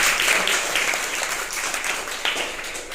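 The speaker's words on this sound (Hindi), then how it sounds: "तो जिन बच्चों ने ये निर्माण किया है उनके लिए एक बार जोरदार तालियां।" A short burst of applause from a group clapping for children at a school event on pollution awareness, fairly close and steady, fading slightly toward the end.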